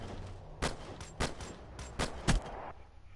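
Gunshots in a shooter video game: five or six sharp, loud shots in an uneven burst over a few seconds, with game ambience underneath.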